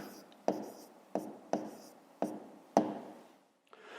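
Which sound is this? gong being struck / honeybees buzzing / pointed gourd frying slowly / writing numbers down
writing numbers down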